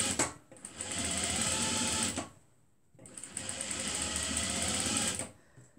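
A sewing machine stitches a gathered skirt with a gather fold, running in two close, steady buzzing bursts of about two seconds each, separated by a brief pause.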